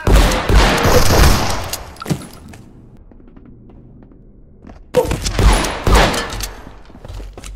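Gunshots in a survival video game: two loud, dense bursts of firing, one at the start and one near the end, separated by a quiet lull with a faint low rumble.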